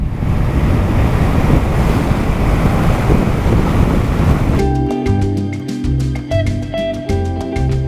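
Wind rushes loudly over a helmet while a rider takes a 2023 Yamaha XMAX 300 scooter along at speed, a dense buffeting roar that gives way abruptly to music for the last few seconds.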